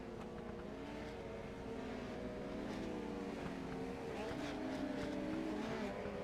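Race cars circle an indoor dirt track at the Chili Bowl Nationals, a steady engine roar with rising and falling revs carrying throughout, mid-distance and continuous with crowd ambience beneath.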